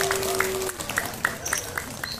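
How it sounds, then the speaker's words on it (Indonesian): An audience at a store gathering claps in a loose rhythm of fairly quiet, scattered claps for about two seconds, preceded by a brief steady tone. "Tepuk tangan."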